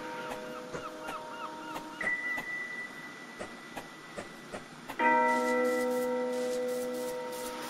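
Strange bell-like ringing indoors: sustained metallic tones with scattered soft clicks, then a louder, richer ringing tone swells in near the end and slowly fades, with no talking.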